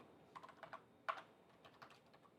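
Fingers type code into a Python notebook on a computer keyboard, a quick irregular run of light, close key clicks with one sharper tap in the middle, at low volume with no talking.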